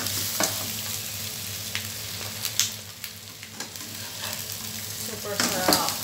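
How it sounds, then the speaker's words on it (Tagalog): Lechon pork sizzles and fries in a pan with a steady crackle, broken by occasional sharper pops and stirring clatter, close and fairly loud with no talking. "Ilalagay na natin yung lechon."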